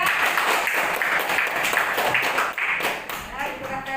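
A classroom of students claps for a student group after its presentation, with a dense burst of applause mixed with voices and chatter throughout.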